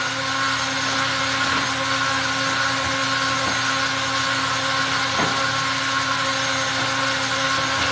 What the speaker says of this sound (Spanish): Me gusta mucho esta licuadora.